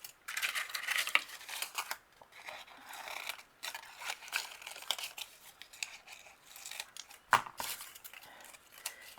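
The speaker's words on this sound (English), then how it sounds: "you cut your cupcake holder in half" Scissors cut through a paper cupcake holder with quiet, close, irregular snips and crinkles, plus a light tap partway through.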